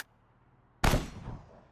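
One loud bolt-action rifle shot in a video game breaks a near-silent moment, a sharp crack that decays into a short rumbling tail.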